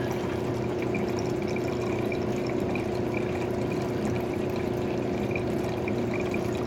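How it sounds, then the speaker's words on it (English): Water flows continuously through a sluice set up for washing IC chips, a constant rushing and pouring sound with a faint steady hum beneath it and no talking. "Sound of the water."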